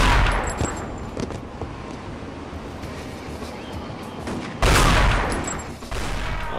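Uzi fire from the video game Chaser: rapid, loud bursts of automatic shots, with a short pause before a second dense, harsh volley near the end.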